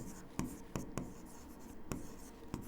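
Someone writes on a board during a maths lesson on trigonometry, making soft scratchy strokes with several sharp taps spaced irregularly over a low background hiss, with no talking.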